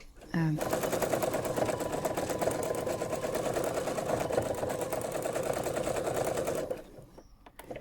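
Domestic sewing machine running a steady zigzag stitch on an embroidered quilt block, a close, continuous rapid mechanical clatter lasting several seconds before stopping.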